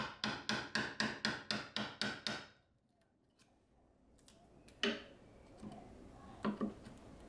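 A hammer strikes a Japanese chisel cutting into wood in a rapid run of about nine evenly spaced, crisp blows, followed by quieter scraping and a few scattered, isolated taps.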